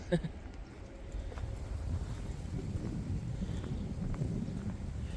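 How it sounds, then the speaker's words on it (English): Gusty wind buffets the microphone outdoors on a nature trail at Cave of the Mounds, a steady low rumble with a brief stronger gust at the start and no voices. "Just a little bit nasty with the wind."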